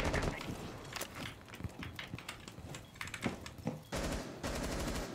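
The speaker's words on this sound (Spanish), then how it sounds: "El juego, sí, que aquí hay un tiroteo" Dense video-game gunfire in a shootout, with rapid automatic bursts and scattered single shots crackling continuously, fairly loud throughout.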